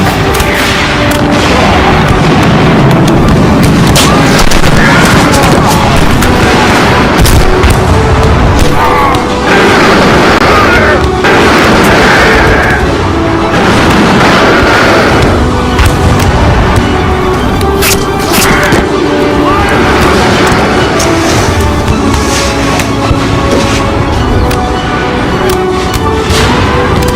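Mortar weapons firing in a video game, a dense, loud, continuous barrage of booms and blasts that stacks up with almost no pause from start to finish.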